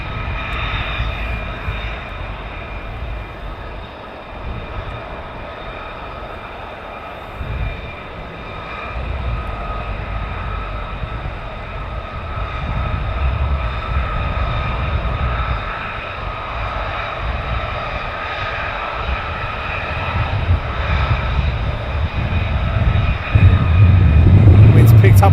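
Military aircraft arriving at RAF Lakenheath airfield, a loud continuous engine roar and rumble that builds steadily toward the end, with a voice talking over it.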